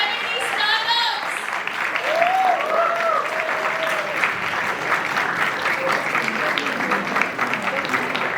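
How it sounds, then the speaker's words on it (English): A large audience claps for the winners of an international startup competition, the dense applause running steadily throughout with a few cheers and voices rising above it. "A huge round of applause, guys."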